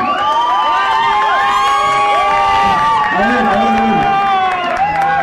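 Loud crowd at a 2013 Rockalavera concert in México breaking into sustained cheering, shouts and whoops for a performer, with strong layered voices and applause continuing steadily across the whole stretch.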